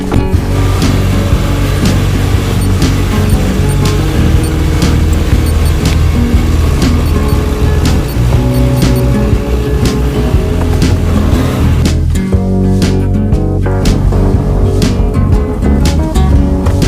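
A car pulls away and drives on, engine and road noise steady and loud from inside the cabin throughout, with a brief dip near the end.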